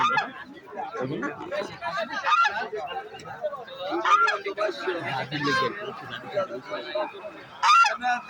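Chinese geese at a busy village livestock market honk repeatedly in loud bursts, mixed in with crowd chatter and people talking close by throughout.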